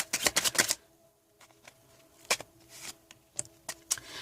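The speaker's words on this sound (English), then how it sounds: "I'm still shuffling." Tarot cards being shuffled by hand: a quick burst of crisp riffling snaps up front, then scattered lighter flicks and taps spaced through the rest, close and fairly quiet with no talking.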